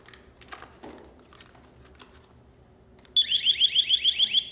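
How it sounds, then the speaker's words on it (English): A loud personal safety alarm, the small kind carried on a belt, bursts on near the end with a rapid pulsing electronic shriek after a stretch of faint background noise. "Just a personal alarm."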